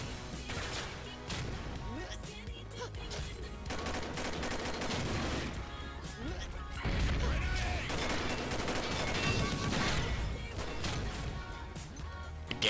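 Dense, continuous combat in an online shooter game, with bursts of gunfire, crashing impacts and grenade blasts overlapping throughout, loud and busy with almost no pauses.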